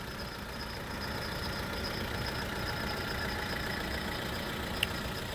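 Small petrol engine of an Opel Agila 1.2 16V idling, a steady even hum with a faint high whine, heard from close by and uninterrupted, with a tiny click near the end.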